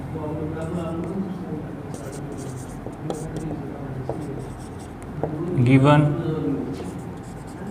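Chalk or marker scratching on a board during a class 10 maths lesson on measures of central tendency, short scraping strokes in irregular bursts beneath someone speaking Hindi.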